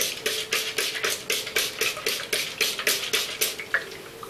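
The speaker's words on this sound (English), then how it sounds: "just spritzing my hair." A handheld spray bottle spritzes oil-and-water mix onto hair, about fourteen quick, even pumps in a steady rhythm, each a short crisp hiss, close and fairly loud with no talking.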